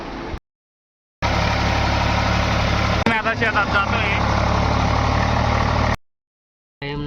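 Farm tractor engine running in a field, a steady low diesel drone heard close, cut by abrupt gaps, with someone speaking over it partway.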